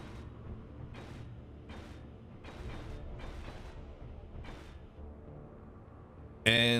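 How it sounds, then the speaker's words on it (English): Welding blocks in the game Space Engineers: a series of mechanical creaking, whirring bursts at fairly regular intervals over a low hum, ending in a sudden loud bright burst. "let's go ahead and weld these up"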